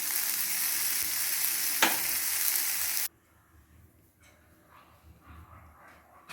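Onions sizzle loudly and steadily in a hot pan for about three seconds, then the sound cuts abruptly to a quiet room.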